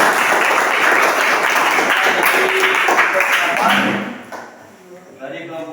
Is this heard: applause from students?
yes